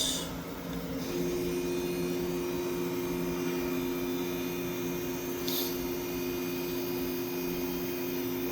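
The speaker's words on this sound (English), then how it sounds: "VMAG HP30E vacuum stuffer. We'll go ahead and run the machine here." A VMAG HP30E vacuum stuffer runs at an auction, giving off a steady, even mechanical hum and whine that holds constant throughout, with a faint brief hiss partway through.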